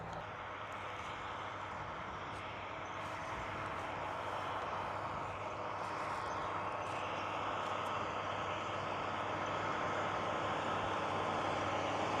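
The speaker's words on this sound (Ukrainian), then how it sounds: "Машинка, кажу, трактор їде" A tractor drives in a sunflower field, a steady broadband engine rumble that holds at moderate, somewhat distant volume throughout with no talk.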